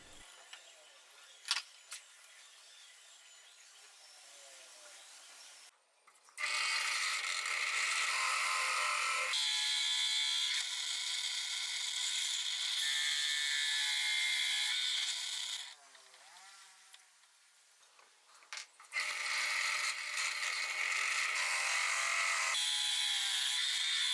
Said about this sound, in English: I'm going to drill this with the hole saw, 25mm.